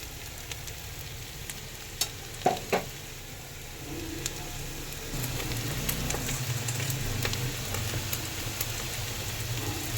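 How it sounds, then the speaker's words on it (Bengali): Chopped onions frying in a pan of oil for egg curry, a soft continuous sizzle with a few clinks and stirs early on, then a fuller, louder crackle, no talk. "পেঁয়াজটাকে মিডিয়ামভাবে একটু ভেজে নিতে হবে"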